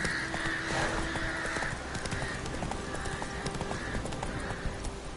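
Roach the horse gallops in The Witcher 3: Wild Hunt, close and steady hoofbeats drumming continuously, with a brief whinny mixed in near the start.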